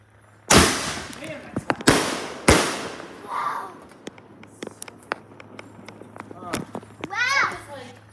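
Independence Day fireworks lit and launched outdoors: three sharp, loud bangs early on, then scattered crackles and pops, with children and adults talking and cheering throughout.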